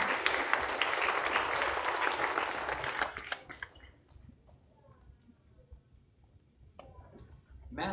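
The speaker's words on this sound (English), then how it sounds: "we'll clap for him, please" An elementary school audience at a 5th grade awards ceremony claps loudly and densely for an award recipient for about three seconds, then the applause drops to scattered faint noises and room sounds.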